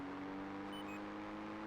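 A motorbike engine drones in the Project Gotham Racing 4 video game, a steady low whirring hum held at a constant pitch, faint and continuous with no talking.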